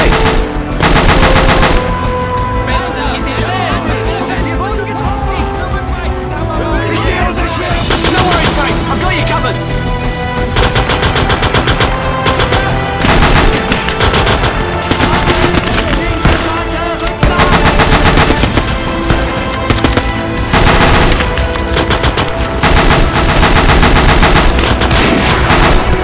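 In the Call to Arms: Gates of Hell video game, a Dunkirk 1940 battle roars with loud, nearly continuous machine gun and rifle fire in dense rapid bursts and heavy blasts that barely let up throughout.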